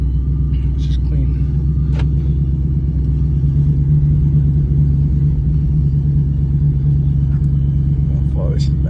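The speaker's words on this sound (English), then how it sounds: "This is a real fast truck right here." A fast truck's engine rumbles at close range, a deep, steady low drone that holds throughout, with people talking over it at a truck meet.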